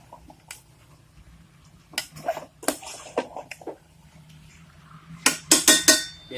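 Chicken curry is stirred in a cooking pot, with a metal utensil clinking and scraping against the sides in sharp, irregular bursts that grow busier toward the end, over a quiet background.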